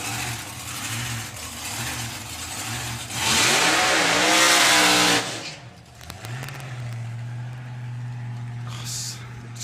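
A nostalgia drag racing car with a new rear-mounted power plant revs and accelerates loudly, surging to a roaring peak before settling into a steady low idle rumble.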